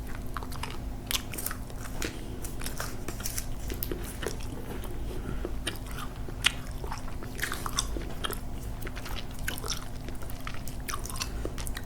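Someone chews watermelon Sour Patch Kids candy right at the microphone, a steady run of close, wet bites and squishy chewing over a constant low hum.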